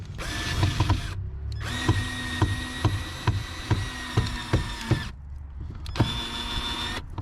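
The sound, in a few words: trying to drive a screw into a van ceiling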